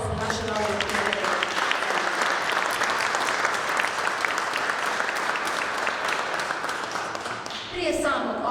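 An audience at a conference gives warm applause, a dense and sustained wash of many hands clapping that begins to thin out near the end.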